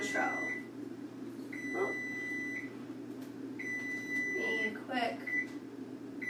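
An oven beeps in three long, steady electronic tones spaced about two seconds apart, over a low kitchen hum while a person speaks briefly between them.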